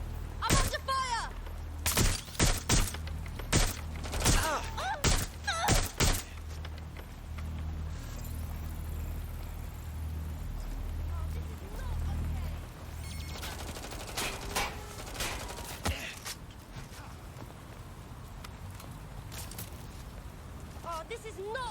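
Bursts of rapid gunfire and impacts in the Watch Dogs Legion video game, loud in the first six seconds, then a steadier rumble of action noise with occasional clatter; a voice talks over parts of it.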